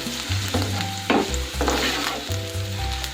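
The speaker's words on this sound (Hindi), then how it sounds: "अब हम इसमें प्याज फ्राई करेंगे।" Finely chopped onions sizzle and crackle in hot oil for an egg dish, a loud steady fry with stirring bursts and a low hum running underneath, no voice.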